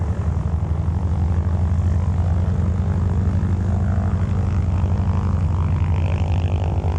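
A banner tow propeller airplane engine at an air show drones steadily and loudly throughout, a low continuous rumble with a buzzing throb, close by and without a break.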